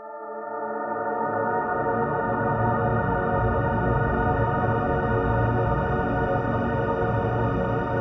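Live-recorded, heavily processed electric guitar swells in and sustains as a dense, steady drone of layered held tones, growing from silence to a full, unbroken wash.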